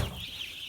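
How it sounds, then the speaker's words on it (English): Chickens cluck briefly and clearly at close range on a small farm, a single short burst of hen calls with no talking. "Chickens everywhere."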